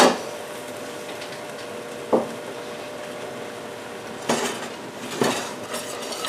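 Creamy pesto sauce whisked in a pan over a very low flame, with a few sharp metallic clinks of the whisk against the pan standing out from a quiet, steady background.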